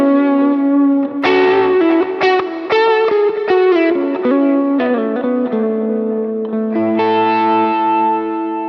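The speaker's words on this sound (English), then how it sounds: "The next thing that makes a Telecaster great is that middle position." Electric Telecaster guitar on its middle pickup position playing a clean, bright chordal phrase with ringing notes and a touch of effects, loud and alone.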